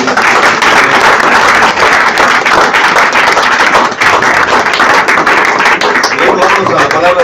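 A church congregation at a Spanish-language worship service bursts into loud, sustained applause, a dense close roar of hands with cheering voices mixed in, steady for the whole stretch.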